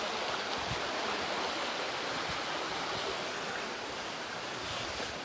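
Water rushes steadily from a waterfall flowing out of a cave near Vang Vieng, Laos. A dense, even roar runs throughout, with no voices.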